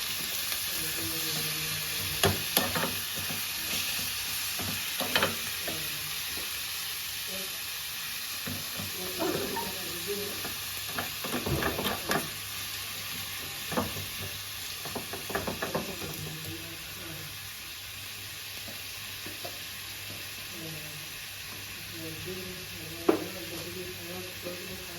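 Cashews, onion and tomato frying in a pan, with a steady broadband sizzle throughout and scattered scraping and stirring clicks from a utensil, close and moderately loud, with no talking.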